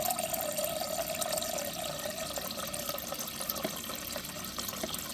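Tap water runs steadily into a pot being filled for pork green chili stock, a continuous close splashing hiss with a faint rising pitch as the vessel fills, with no talking.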